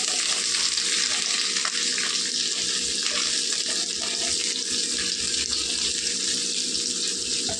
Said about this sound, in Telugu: ఇప్పుడు ఇదే నూనెలో మనం దొండకాయలు వేసుకొని వేపుకుందాం.